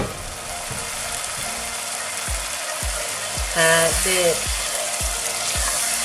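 Onions sizzling in a pan for a Bengali dry fish curry, with a constant frying hiss under a run of rhythmic stirring or scraping knocks and a brief louder clatter midway, plus a single spoken word.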